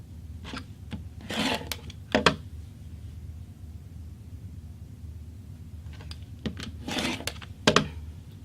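Fabric for a quilt is cut into 2.5 inch segments, with short bursts of rubbing and scraping cuts in two clusters over a low background hum, close and moderately quiet.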